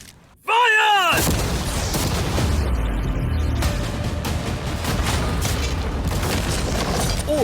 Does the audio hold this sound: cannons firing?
yes